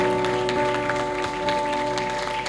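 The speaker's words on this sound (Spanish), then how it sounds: "Denle un fuerte aplauso al Señor" Congregation clapping together during a church worship service, a steady dense patter of hands over sustained organ-like musical tones, continuous and fairly loud throughout.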